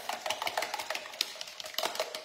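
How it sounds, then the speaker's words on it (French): A spoon beating egg into choux pastry dough in a bowl, a quick irregular run of close, soft slapping and clicking strokes. "un petit coup de cuillère magique, vraiment pour bien mélanger l'œuf"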